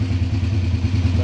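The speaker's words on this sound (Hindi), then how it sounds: "मोटर बाइक स्टार्ट कर ली है" A motorbike engine idles just after starting, a close, rapid low thumping pulse with a rattling mechanical clatter, steady and unbroken.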